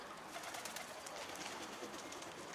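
A homing pigeon coos softly amid a flock of loft birds, low throaty calls repeating over a constant faint background of fluttering and rustle, heard without any talk.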